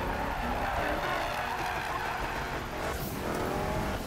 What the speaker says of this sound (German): Mit meinem Ford Mustang. Das ist nämlich ein Drift-Ungeheuer.